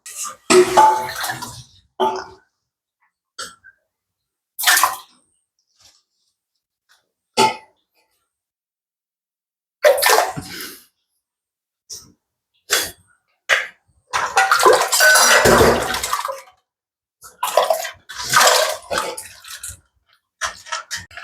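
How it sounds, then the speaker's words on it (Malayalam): Cassava pieces for Kerala-style paal kappa are dropped into a pot of water heating on a stove, giving scattered close splashes and clatters in short bursts, with quiet gaps between them and no talking. "അപ്പം അതിനുള്ള വെള്ളം അടുപ്പത്ത് വെച്ചോണ്ട് ഇനി വെള്ളത്തിലേക്ക് കപ്പ ഇട്ട് കൊടുക്കണം"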